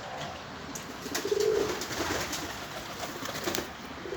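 Pigeons cooing softly outdoors, a faint low coo rising briefly over steady background noise, with no talk.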